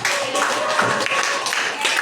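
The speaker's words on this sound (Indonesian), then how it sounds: "Oke, tepuk tangan untuk" Audience applause in a supervision session classroom or hall, a dense steady patter of many hands clapping for about two seconds at moderate level, with no talking over it.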